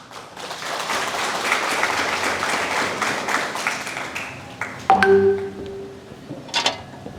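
Applause at a graduation ceremony rises and holds as a dense, moderately loud patter for about four seconds, then breaks off into scattered claps, a clattering knock and faint room noise.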